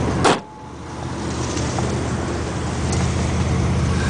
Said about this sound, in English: Hear the motor. Sounds good.